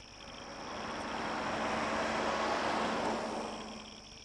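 A single car passes at night, swelling gradually from a distant hum to a broad whooshing roar and fading away again over a few seconds, heard alone.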